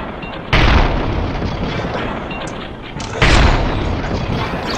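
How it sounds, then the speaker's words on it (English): A bomb goes off in the online shooter Combat Arms during a clan match, giving two loud booming blasts about three seconds apart, each followed by a rumbling tail. "I got the explosion."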